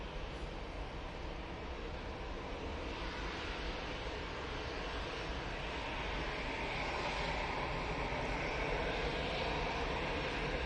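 A Boeing 787 Dreamliner at Manchester Airport gives off a steady, fairly distant engine rumble that builds slowly toward the end, with no voices over it.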